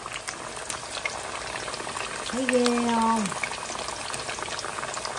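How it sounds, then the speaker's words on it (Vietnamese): Sweet potatoes frying in hot oil give off a steady, close sizzle throughout, with someone briefly speaking over it partway through. "Bắt đầu chiên khoai lang nè."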